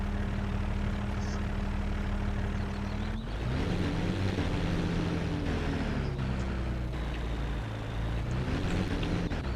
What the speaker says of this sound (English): if you want to really listen to the tractor